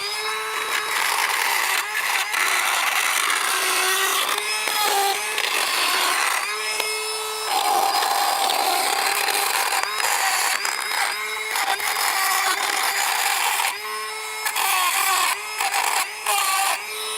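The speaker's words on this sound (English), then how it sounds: "we're going to grind it down some more and make this even more of a challenge" Power grinder working down a bolt head to round it off, a loud continuous high-pitched whine that dips and rises in short pulses as the wheel bites the metal, close up and without talk.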